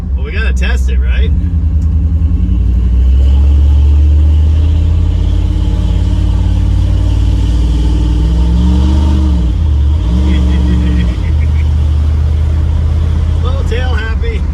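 A 1984 Dodge D150 stepside with a swapped Magnum 5.9 V8 accelerating on a drive, a loud deep rumbling roar that rises and falls through shifts, heard from close inside the vehicle.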